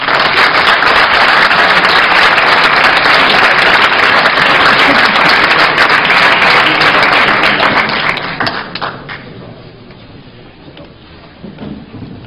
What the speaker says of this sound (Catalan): Un fort aplaudiment per a totes les corals.